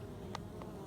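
Honeybee workers flying in to the hive entrance carrying pollen, a low steady buzzing hum with a couple of brief louder passes of individual bees close by.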